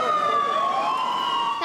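A fire truck siren wails steadily and loudly nearby, a continuous high tone with a slight downward glide across its short span.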